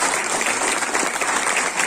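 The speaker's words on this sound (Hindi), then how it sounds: "रामलाल जी आप इनके लिए इसलिए ताली बजाएं कि आपने कारगिल वॉर लड़ा था।" Audience applause at a national Navodaya (JNV) alumni meet in Delhi, honoring a Kargil War veteran; dense, steady clapping from a crowd fills the whole moment without pause.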